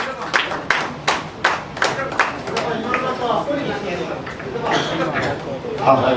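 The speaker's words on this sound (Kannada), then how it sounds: "ಜೋರಾದ ಚಪ್ಪಾಳೆ ಬರಲಿ" Audience clapping at the success meet for the Kannada film Sanju Weds Geetha 2: a run of sharp, fairly loud claps over the first half that thins into scattered applause, with someone talking throughout.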